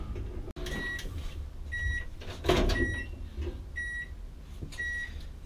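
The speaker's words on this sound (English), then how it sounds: "I'm going to put it into the microwave." A microwave oven hums steadily while heating sparkled plastisol indoors, with a sharp click near the start and a series of evenly spaced high electronic beeps over the running drone.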